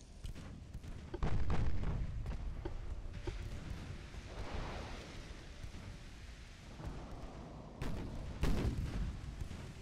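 Naval gunfire from battleships in Ultimate Admiral Dreadnoughts: several heavy booming salvos, some near and some distant, with rumbling tails and a brief stretch of rain-like noise.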